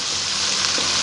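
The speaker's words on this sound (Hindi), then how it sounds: "अब हम इसे पानी का हल्का से छींटा लगाकर इस तरीके से" Cumin and red chilli spices frying in a pan after a light splash of water, giving a steady, dense sizzle that stays close and even throughout.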